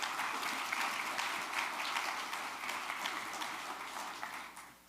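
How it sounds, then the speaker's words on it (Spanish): A conference audience applauds steadily, a dense wash of clapping that fades away toward the end. "un aplauso para todos ellos, por favor"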